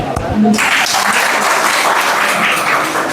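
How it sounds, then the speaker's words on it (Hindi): An audience of students at a farewell event bursts into clapping after a brief bit of speech, a loud, dense wash of applause that continues to the end. "ताली।"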